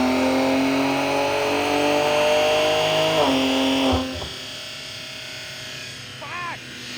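A BMW M3 G80 with a Valvetronic exhaust revs loudly and close by, its pitch rising steadily and then cutting off sharply into a low idle. A brief second blip of throttle follows.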